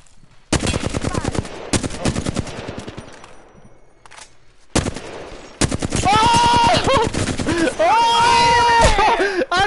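Rapid video game gunfire during a one-on-one match: loud bursts of automatic fire in quick rattling strings, a pause, then sustained firing mixed with game effects while a player talks excitedly over it.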